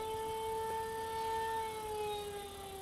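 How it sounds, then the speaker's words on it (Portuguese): Steady warning siren sounding before a rocket launch at a launch range, a continuous two-tone wail holding level for several seconds, loud and alone with no talk. "Sirene ativada."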